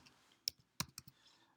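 Keys on a Chromebook keyboard are tapped in a quick irregular run of about half a dozen close, crisp clicks with quiet between them.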